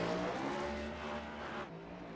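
A race car in iRacing at Phoenix Raceway slams hard into the wall, the engine roar and scraping tire noise fading as the damaged car slows, fairly faint and with no voices.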